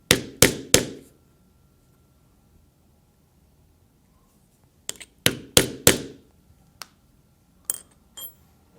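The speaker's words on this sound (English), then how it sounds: "And we'll punch holes in both the top and the bottom, about 1/8 of an inch from the edge." A hammer drives a hole punch through a leather pocketknife case, sharp close knocks in two clusters, three quick strikes then a pause before a run of five or six more taps, no voices.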